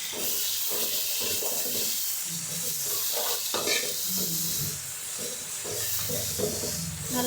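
Ginger garlic paste sizzles in hot oil for Bangalore-style chicken pulao, a steady loud frying hiss with occasional stirring scrapes running throughout.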